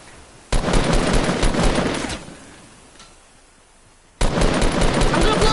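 Rapid video game gunfire rattles in two loud bursts with a quieter gap between them.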